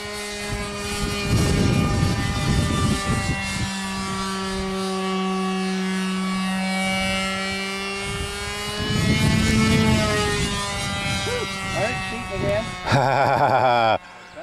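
A radio-controlled model airplane flies overhead, its motor giving a sustained whining drone that swells and sweeps in pitch as it passes. People talk intermittently over it, and a sharp, louder burst arrives near the end.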